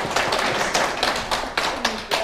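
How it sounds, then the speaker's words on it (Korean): An audience claps during a Buddhist monk's lecture on the Great Learning: a string of sharp, separate claps repeats about every half second, with a voice faintly present underneath. "그렇다고 또 박수를 또 치십니까?"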